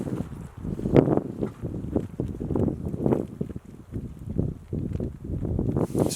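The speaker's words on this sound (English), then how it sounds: "it's a very blustery day already" Strong, gusty wind blows outdoors on a wilderness island in Canada, a continuous blustery rumble that swells and eases in waves, close to the microphone, with no talking.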